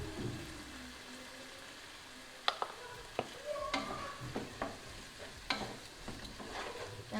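Vegetable biryani, Kerala style, being stirred in a pot after garam masala goes in, with a soft sizzle underneath and a string of sharp spoon scrapes and knocks, close and fairly quiet.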